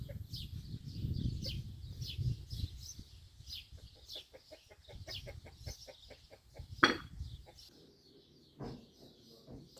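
Chickens cluck and squawk close by, with repeated short calls and one louder burst, over some low rumbling background noise.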